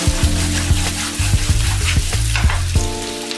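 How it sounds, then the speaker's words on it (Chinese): Chicken pieces are stir-fried over high heat with dried Sichuan peppercorns, green and red peppers and lettuce stem, giving a close, steady sizzle with repeated scraping tosses of a spatula in a wok. "然后倒入炸好的鸡块，刚才捞出了青花椒，开大火翻炒，让鸡肉和麻辣味融合"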